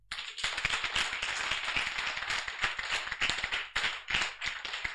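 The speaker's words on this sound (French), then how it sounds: "Acclame Jésus" A church congregation applauds, the sustained, lively clapping of many hands filling the space at close range, holding steady throughout with slight dips in intensity.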